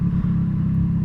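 A Triumph Street Triple 765RS running through an aftermarket SC Project-style exhaust bought from AliExpress, a brief steady low burbling engine drone close by with no talking.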